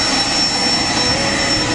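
A Learjet jet engine roars close by as the plane prepares for takeoff, a loud, steady broadband rush with a thin high whine, continuous and without talk.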